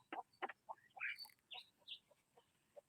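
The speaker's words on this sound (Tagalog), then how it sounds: "Ayan, putak ng putak. Mga ano yan, mga Rhode Island na manok." Rhode Island Red chickens clucking close by in a quick, uneven series of short, throaty clucks and a few higher squawks, with no talking.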